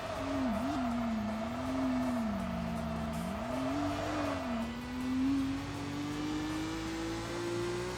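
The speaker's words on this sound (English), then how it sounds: "The Honda City is quick." A Honda City's engine in the racing game Tokyo Xtreme Racer: Drift 2 drones continuously, its pitch wavering and dipping before climbing steadily as the car accelerates.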